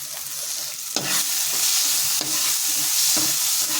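Onions and garam masala fry in a pan with a steady, bright sizzle heard up close, broken by several sharp scraping stirs at regular intervals.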